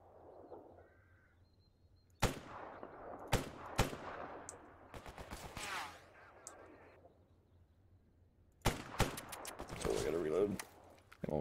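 Enemy gunfire in the video game S.T.A.L.K.E.R. Anomaly, with sharp shots and bursts in two clusters of loud cracks separated by quieter stretches, mixed with in-game ambience.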